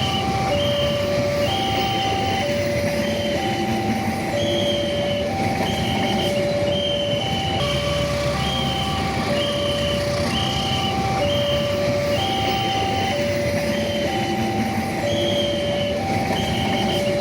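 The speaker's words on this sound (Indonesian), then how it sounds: "Sampai ke perlintasan kita hunting kereta dulu bentar dan nemu lokomotif cawit cok." Locomotive train rolling past a railway crossing, with a loud, steady rumble throughout and a repeating two-tone crossing bell or horn pattern ringing over it; no talking.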